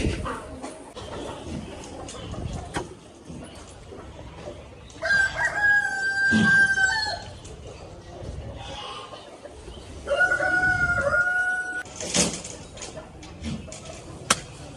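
Rooster crows twice at a home desi poultry farm, loud and clear between stretches of softer clucking and scattered farmyard noise; a distant dog and faint voices sit in the background.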